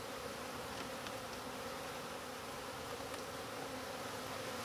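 Honeybees buzz steadily around an open backyard hive during weekly frame maintenance, a dense continuous drone with no voices.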